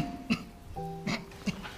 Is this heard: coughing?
yes